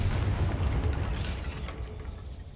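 A Confringo fire spell detonates inside a cave in Hogwarts Legacy, giving a heavy, rumbling boom that hangs on as a dense low roar and fades slowly, with no talking over it.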